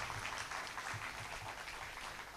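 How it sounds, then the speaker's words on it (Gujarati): Audience at a Bhagwat Saptah religious gathering clapping in sustained applause, a dense, even wash of many hands throughout, moderately loud and without voices. "એક વખત જોરદાર તાળીઓ થવી જોઈએ"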